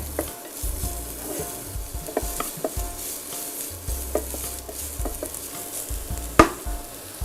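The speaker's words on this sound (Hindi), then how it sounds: "इसे थोड़ा सा हम सौटे करेंगे" Onions sautéing in a pan for a millet dish, a low steady sizzle broken by scattered clinks and scrapes of stirring, close and moderately loud with no talk.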